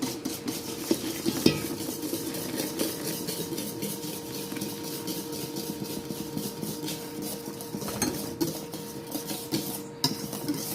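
Hot boiled cream is poured over blanched eggs and stirred with a utensil in a bowl for crème brûlée with vanilla pods. Continuous soft scraping and swishing comes with occasional light clinks, close and steady, with no talk.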